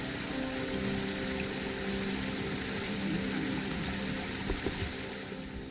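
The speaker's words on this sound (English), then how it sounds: "Little waterfall." A small waterfall in woodland on a fell walk gives a continuous, even rush of falling water, steady and fairly close throughout with no talk.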